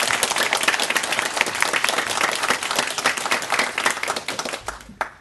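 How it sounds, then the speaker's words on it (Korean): Dense applause fills a church room during a New Year worship service, loud and sustained before trailing off abruptly near the end. "한번 격려 박수 부탁합니다."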